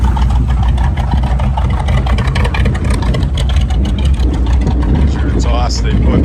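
A 1966 Chevrolet Impala engine running smoothly at an outdoor car show, a loud steady low rumble with continuous exhaust drone close by.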